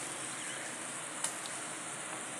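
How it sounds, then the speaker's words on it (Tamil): Onions sauté in a pan for Tamil-style egg poriyal, making a continuous, even sizzle at moderate level, broken only by one brief faint clink. "நல்லா வெங்காயத்தை வதக்கிக்கிறணும்"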